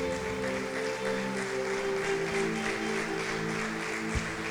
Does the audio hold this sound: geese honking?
no